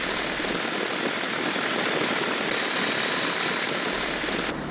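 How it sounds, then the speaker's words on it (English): A light aircraft on a grass runway gives a loud, steady droning engine and propeller roar that holds constant throughout, heard from inside or very near the plane. "Taxiing down the grass runway is quite bumpy."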